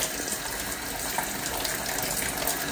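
Tap water running steadily while a child washes hands under the stream, a loud continuous close-up rushing gush with no talk over it.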